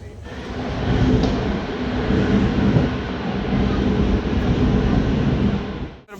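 The Malda Court to Siliguri DEMU passenger train runs along the track with a close, continuous rumble and rattling carriage noise that holds steady before cutting off abruptly.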